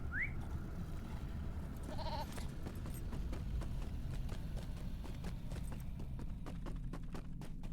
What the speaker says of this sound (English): we're going to get on a goat, do a little riding